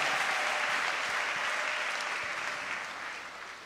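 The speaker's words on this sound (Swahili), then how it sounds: "Tungempigia Mungu makofi mengi ya shangwe" A church congregation breaks into loud, dense applause that fills the space and fades slightly toward the end, with no one speaking over it.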